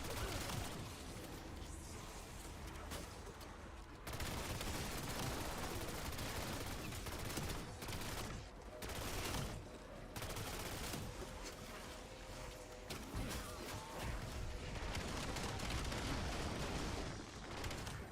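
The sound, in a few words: submachine gun gunfire in a video game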